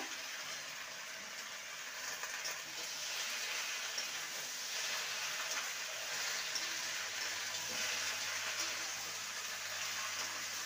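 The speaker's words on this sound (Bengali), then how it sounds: "এবারে পুঁই শাক ডাঁটা আর পাতাগুলো দিয়ে দেবো। ভালো করে নেড়ে নেব।" Vine spinach stalks and leaves are stirred in a frying pan with prawns and spices, making a steady broad hiss of sizzling with soft scraping of the spatula, constant and moderately close.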